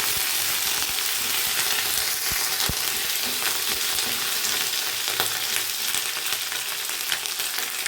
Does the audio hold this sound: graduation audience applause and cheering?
no